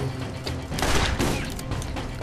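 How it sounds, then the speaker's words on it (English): Gunfire in the video game Borderlands as ammo crates are shot, a dense burst of loud, overlapping blasts and impacts filling the whole short stretch. "To destroy these ammo crates, just you have to shoot them like that."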